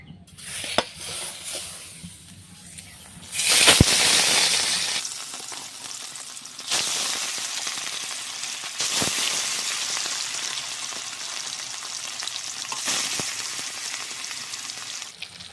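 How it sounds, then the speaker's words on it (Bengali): Sating fish frying one by one in hot oil in a Bengali kitchen: a loud burst of sizzling hits as the fish goes in, then settles into a steady, close crackling hiss with a few faint utensil clinks, no voices. "তেল গরম হয়ে গেছে এবার মাছগুলোকে আমি একে একে ভেজে নেব"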